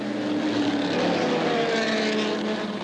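A loud, continuous roar of 21 Can-Am race cars, including a 5-liter Chevy engine, revving together at the green-flag start at Mosport in 1983, a dense blur of motor noise with no pauses.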